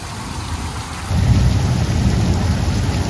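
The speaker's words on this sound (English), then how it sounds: "a whole embrace of rain is over us now" Heavy, steady rain pours down outdoors in Leakey, Texas, a dense continuous wash that swells louder after the first second and holds a generous, even roar, with a faint distant thunder-like rumble underneath.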